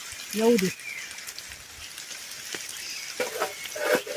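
Heavy rain pours over open countryside fields, a steady close hiss throughout, with a brief voice near the start and a few louder spatters toward the end.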